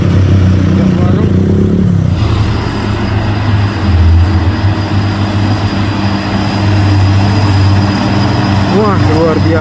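A Hino diesel trailer truck climbs a hill with a loud, steady, deep engine drone that holds throughout at close range, with a voice talking over it.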